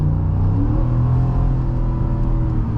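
A 2026 Ford F-150 Lobo's engine climbing through the revs, a steady loud mid-pitched drone and rumble that holds close and constant throughout.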